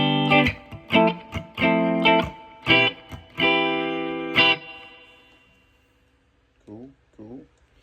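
An electric guitar played through a Silverface Fender Twin Reverb amp with reverb on: a run of strummed chords and single notes that ring out and decay into a reverb tail, then two short plucked notes near the end.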